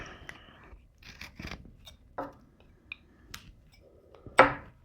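A carving knife cutting into wood while shaping a small wooden mushroom, with stop cuts and slicing strokes: a sparse series of short, close scraping and shaving sounds separated by quiet pauses.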